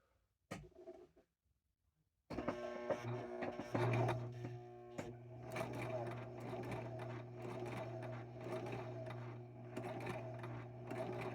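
Sewing machine stitching a toga, a steady close mechanical whir running continuously after a short pause, with faint background sounds at the start.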